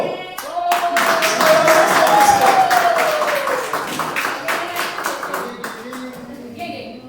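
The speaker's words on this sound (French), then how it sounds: "on va applaudir avec nous très fort" An audience at the Prix Kay Kretyen 2021 gospel awards bursts into sustained, dense applause for a Christian artist, a sung or held voice rising over the clapping before it thins out near the end.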